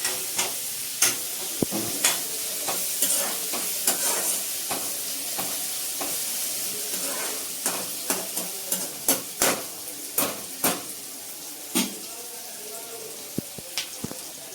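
Onions frying in oil in a pan while turmeric is added, giving a steady close sizzle broken by repeated clinks and scrapes of stirring.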